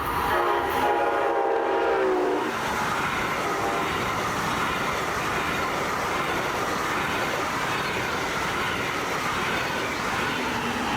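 A northbound Brightline 10-coach passenger train at the New Haven Avenue crossing sounds its horn loudly for about two seconds, then rushes past close by with a steady rolling roar of wheels and coaches.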